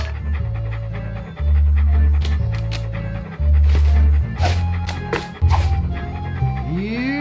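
Video game dog pants and barks in a loud, steady looping rhythm, repeated low bursts close up, with game music and effects underneath and no talking.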